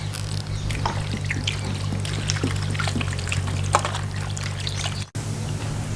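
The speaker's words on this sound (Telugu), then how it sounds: "ముందుగా మీరు తెచ్చుకున్న చికెన్ను బాగా కడగండి." Water trickling and pouring while raw chicken is washed in a village kitchen, a steady splashing stream with small drips and clatter over a constant low hum, briefly cutting out near the end.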